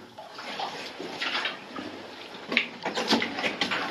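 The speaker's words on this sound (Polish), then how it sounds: "Woda wypływa, widać. Płynie woda." Water flowing out of a flooded, boggy mine adit, a steady close trickle and splash with irregular bursts of louder gurgling and dripping, no voices.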